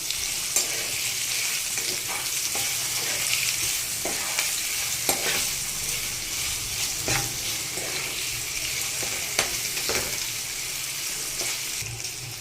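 Potatoes and chilies being stirred in a hot pan with turmeric, asafoetida and salt, a steady sizzle with repeated scraping strokes of the spoon, close and continuous with no talk.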